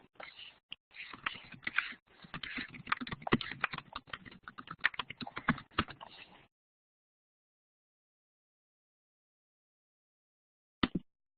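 A computer keyboard clatters in a dense run of keystrokes as question text is typed, close and clear, for about six seconds. Then it falls silent until one brief pair of taps near the end.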